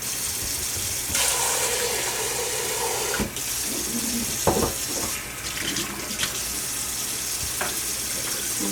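Running water pours steadily from a tap into a pot to cover pig feet, a continuous hiss with a few soft clunks and knocks of the container.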